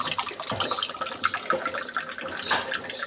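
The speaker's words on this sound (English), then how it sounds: "we're gonna put more of the apple cider vinegar in" Apple cider vinegar poured into a horse's bath water, a close, steady splashy liquid trickle with brief gurgles, running alone without talk.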